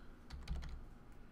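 A few quick keystrokes on a computer keyboard, soft clustered clicks close by with a low thump, then quiet.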